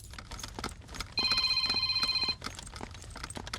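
Telephone ringing on an outgoing call, a single steady ring tone lasting about a second amid light clicking and room noise, moderately loud with no voices.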